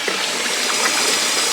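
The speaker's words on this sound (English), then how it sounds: "I'm gonna add warm water to it." Warm water poured from a little height into a wine kit in a cool basement, a steady, even splashing gush that runs unbroken and fairly loud throughout.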